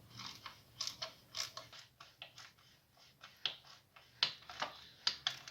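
A wrench tightens two bolts on a Ciao series 2, producing faint, close, quick mechanical ticks and clicks in uneven bursts, with no speech.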